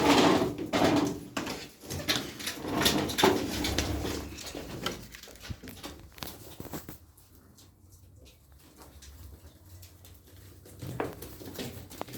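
A flock of about eighteen pet pigeons coos and shuffles in their loft, soft throaty calls mixed with fluttering and patter, busier at first and then thinning to quieter, sparser sounds.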